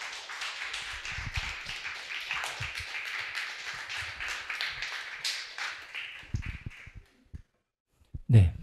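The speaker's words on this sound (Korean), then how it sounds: "여러분 박수 보내주시기 바랍니다" An audience at an education forum on artificial intelligence claps for an invited professor; dense, steady applause runs for about six seconds, then thins and fades into quiet before a brief thump.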